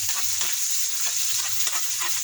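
Onion sautéing in a pan for a simple home-cooked dish, a close, steady sizzle and crackle, with faint scraping and stirring over a low background hum and no speech.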